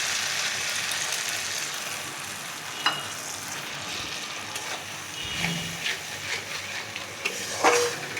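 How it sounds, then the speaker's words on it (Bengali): Spice paste hits fried tomatoes in a pan for a sour-sweet-spicy bitter gourd and potato dish, giving a soft, steady sizzling hiss with a few faint clicks and stirring scrapes, fairly quiet throughout. "টমেটো আমার ভাজা হয়ে গেছে, এবার আমি বাটনাটা দিয়ে দিচ্ছি।"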